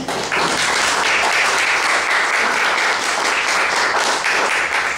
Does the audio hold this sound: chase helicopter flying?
no